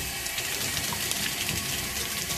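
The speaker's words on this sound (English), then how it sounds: "as you can see, the water comes out like crazy" Cold water gushes hard and steadily from a lab emergency eyewash station, a loud, continuous broadband rush close by with no talking.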